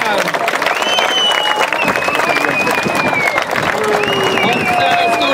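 A crowd at a surf event applauds the team riders, the clapping and cheering mixed with raised voices and whistle-like tones over a busy, loud outdoor ambience.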